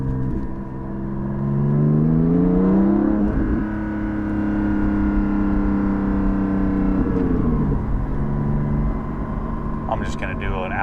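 Porsche 718 GT4 engine and exhaust with the vacuum lines pulled, heard from inside while driving: a steady flat-six drone that swells as revs climb and falls between shifts, loud and continuous for about ten seconds.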